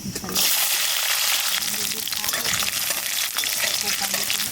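Garlic sizzling in hot mustard oil with mustard seeds, a steady close crackle and hiss of frying that holds from start to finish after a brief opening moment.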